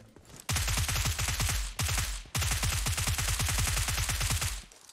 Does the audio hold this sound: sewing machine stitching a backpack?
no